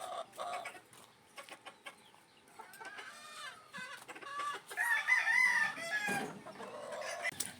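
Young cockerels clucking and crowing nearby, busy overlapping clucks and calls with a thin, rising juvenile crow in the middle, close and moderately loud, no talking.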